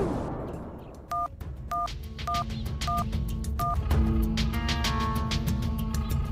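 Five short electronic telephone keypad tones sound in an uneven series, followed by a steady low hum and more layered tones over continuous background noise.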